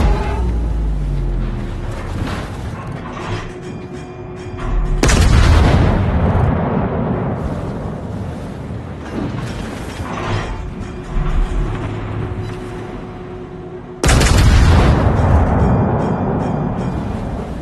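Naval guns fire at an enemy warship in a video game, producing three heavy booming blasts spaced several seconds apart, each with a long rumbling decay over mechanical background noise.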